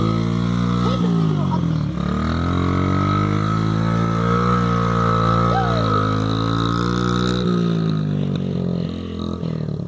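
Dirt bike engine running steadily close by, a loud droning motor tone that rises and dips slightly as the throttle shifts, with people talking over it.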